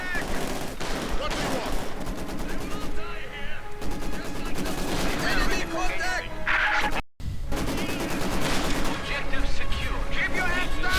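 Heavy machine gun fire in Company of Heroes 2, with dense, sustained rattling bursts mixed with other gunfire and battle noise under a commentator's voice, one brief gap partway through.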